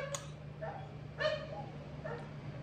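A dog tied up at home gives four short, fairly faint barks and yips, spaced irregularly over a quiet room background.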